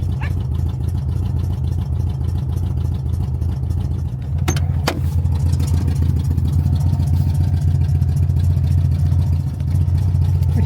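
A car engine fires up with a brief burst of clatter a few seconds in, then settles into a steady, loud idle with a strong low rumble close by.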